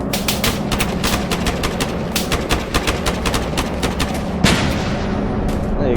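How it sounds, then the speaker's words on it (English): Rapid bursts of gunfire rattle through a shooter game, loud and dense, before a single heavier blast from a grenade landing at the player's feet near the end, followed by lingering rumble. "if a grenade lands on your foot, which I will show."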